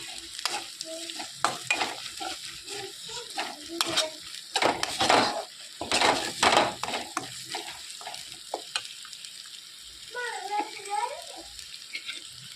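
Cumin paste frying with chickpeas in a pan, stirred in bursts of scraping and loud sizzling, close up, with a brief watery gurgle near the end and no talk.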